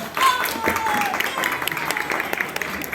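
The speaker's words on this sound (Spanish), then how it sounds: "Un fuerte aplauso para ella, por favor" Applause for author and filmmaker Laura Lee Bahr from a festival audience at a fantasy film festival in Fuenlabrada, a moderately loud wash of clapping mixed with crowd murmur and some voices over three seconds.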